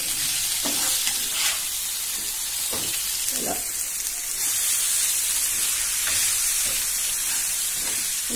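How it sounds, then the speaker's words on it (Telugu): Loud, continuous sizzling of food frying in a pan, with occasional scraping and stirring sounds over the hiss. "ఈ చేపలు ఫ్రై చేసుకుంటా"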